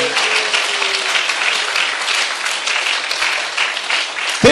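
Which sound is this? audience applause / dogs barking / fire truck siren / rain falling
audience applause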